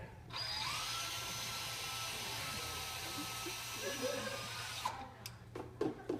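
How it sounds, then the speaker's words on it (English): A steady electric power drill whirs for several seconds, fairly quiet, then cuts off, followed by a few short knocks and clatter. "All I have to do is drill this out, right?"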